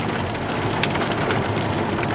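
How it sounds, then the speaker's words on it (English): Heavy rain from a severe storm near Alexandria, Minnesota, with occasional chunks of hail, drums as a dense, loud, continuous roar with scattered sharper impacts standing out on the surface. "The heavy rain, occasional chunks of hail,"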